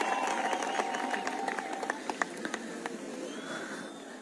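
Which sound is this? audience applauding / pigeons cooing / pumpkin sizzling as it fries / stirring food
audience applauding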